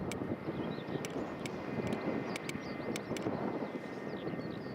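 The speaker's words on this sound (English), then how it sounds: "That's the second one that's done a very, very long floaty landing." Jet engine noise from an airliner after a long floating landing at Newcastle Airport, a steady broad roar heard from a distance with wind buffeting the microphone and a few faint sharp clicks.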